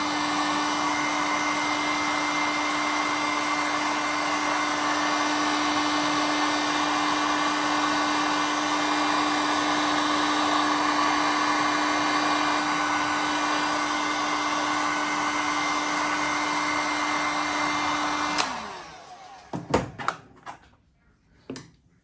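A hair dryer blows steadily on glazed hand-built pottery, a loud continuous whir with a fixed hum that holds for about eighteen seconds before switching off, followed by a few handling knocks and clatters.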